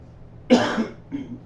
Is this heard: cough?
yes